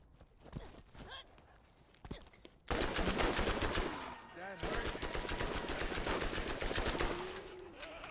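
Rapid automatic gunfire in the Borderlands video game, long sustained bursts of loud, dense shots after a quieter opening with scattered single pops.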